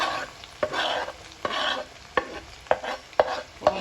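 Onion and garlic fry in a pan, a steady sizzle broken by sharp scrapes and knocks of a spoon stirring them at close range, several strokes in quick succession.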